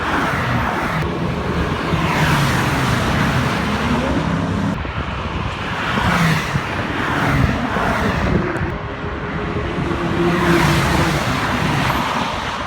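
A McLaren 540C sports car drives laps at the Zandvoort circuit, its engine droning loudly and continuously beneath heavy wind rush, with the pitch rising and falling as it accelerates.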